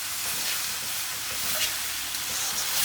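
Vegetarian hoisin fillet pieces frying in a pan while being stirred, giving a loud, continuous, even sizzle with a steady hiss, close up, with no speech.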